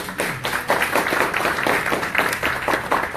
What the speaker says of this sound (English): Will my council please join me to presenting the certificate and a round of applause?